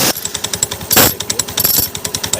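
A faulty motorcycle self-starter gives a loud, rapid, rhythmic grinding clatter of sharp repeated impacts, close and continuous throughout, with no other sound competing.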